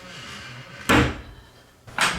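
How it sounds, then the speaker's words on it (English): A hotel bathroom sliding door at the Wilderness Lodge moves twice, each a sharp rolling whoosh and thud about a second apart, close and clear over a quiet room. "This sliding door leads to the bathroom"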